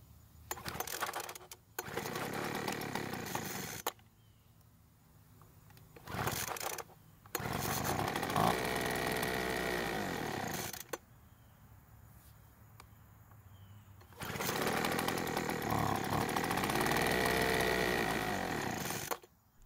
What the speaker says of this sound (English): we know the engine starts and runs for a few seconds, but it keeps stalling